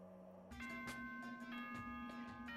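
A chime from the video game Danganronpa 2 rings out before a school announcement, a sequence of bright bell-like tones sounding one after another over a steady background hum.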